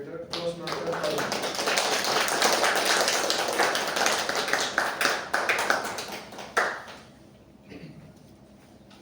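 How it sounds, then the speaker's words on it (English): Applause from a Toastmasters meeting audience, a dense burst of clapping that swells quickly, holds for several seconds, then thins out to scattered claps and quiet near the end. "With a big round of applause, ladies and gentlemen"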